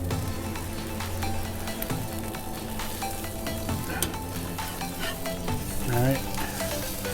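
Birria tacos fry on a Blackstone griddle with a constant close crackling sizzle, punctuated by occasional scrapes and taps of a spatula.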